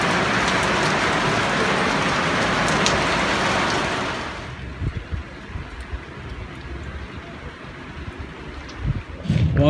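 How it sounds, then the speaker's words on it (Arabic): Rain pours in Addis Ababa as a dense, even roar for about four seconds, then eases to a quieter patter with scattered nearby knocks and movement. "ما شاء الله الامطار"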